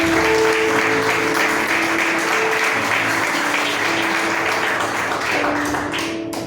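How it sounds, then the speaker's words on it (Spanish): A church congregation applauds at an evening worship service, a dense, steady wash of many hands clapping together that holds loud for several seconds with faint tonal hum underneath. "Dale un fuerte aplauso al Señor."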